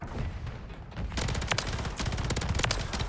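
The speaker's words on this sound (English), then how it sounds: "Now we're gonna use a real gun." Dense, continuous video game gunfire from a real gun, rapid automatic bursts crackling loud and close for a few seconds with no pauses.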